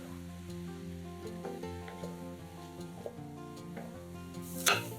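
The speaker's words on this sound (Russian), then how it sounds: "Нарезанные грибы насыпаем на горячую сковороду и готовим на большом огне до испарения жидкости" Sliced mushrooms cook in a hot frying pan over high heat, giving a steady low sizzle with occasional stirring clinks and a sharper scrape near the end, under a background of music.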